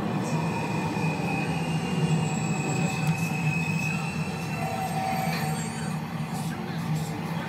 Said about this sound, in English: This is a 39th Street Stock Exchange bound Q Express train.